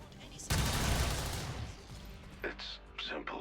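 A sharp, loud gun blast opens a burst of sustained rattling fire aimed at a turret in XCOM 2 Long War, then tapers into a few shorter cracks while someone talks.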